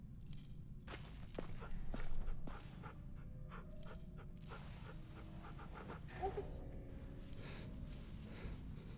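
A dog pants steadily and close in The Walking Dead: The Final Season video game, its quick rhythmic breaths running throughout, with a few soft footsteps and faint background sounds.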